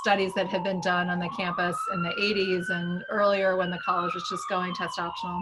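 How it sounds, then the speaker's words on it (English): Emergency vehicle sirens pass outside, a steady rising and falling wail running beneath close indoor speech for several seconds. "Sorry about the sirens."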